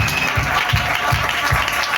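Audience clapping in a church service, a steady broadband patter with faint voices mixed in, continuous through the moment.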